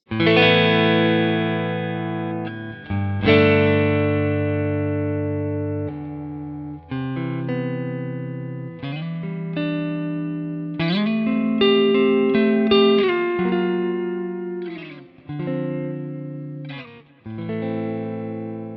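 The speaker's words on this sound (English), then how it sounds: "right now I got it on just a clean tone with some basic delay and reverb on the end" A Fender Jason Isbell Custom Telecaster electric guitar on a clean tone plays slow chords and single notes, each ringing out with echoing delay and a reverb tail.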